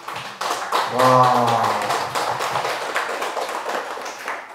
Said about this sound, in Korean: 대답은 안 해도 적절한 타이밍에 박수 칠 줄은 아시네요